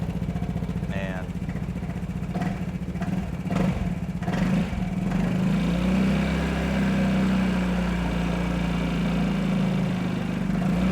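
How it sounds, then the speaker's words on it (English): A Vespa GTS scooter engine idles steadily with a low, even putter throughout, mid-distance and constant, while a person talks over it near the start. "I'm going to go ahead and start the scooter"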